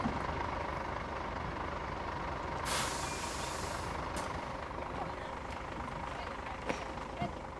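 A school bus idles with a steady low engine rumble while a sharp, loud air-brake hiss bursts out for about a second and a half midway, with tonal reversing beeps and faint voices in the background.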